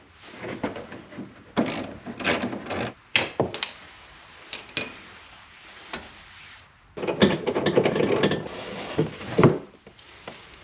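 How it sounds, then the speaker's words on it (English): A 3/8 ratchet on a wobbly extension works a bumper fastener on an Audi S4, giving close, rapid bursts of clicking pawl ratcheting separated by short pauses and small metallic handling knocks. "So I'll be using a 3/8 ratchet, an extension, and this is a wobbly extension, so we have some flexibility here."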